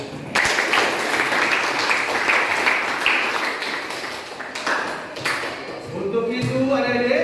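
A classroom of students claps for their groups, lively scattered hand claps with a few sharp taps; an adult voice talks over and after the clapping.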